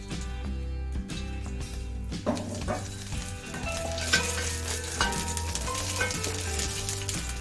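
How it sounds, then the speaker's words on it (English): Onions frying in oil with bay leaves and cloves in a pan, a steady close sizzle with occasional stirring scrapes, continuous and fairly loud throughout for a Malabar chicken biryani masala. "Let's fry the onion in the same pan. Add some more oil and 2 bay leaves and 2 cloves."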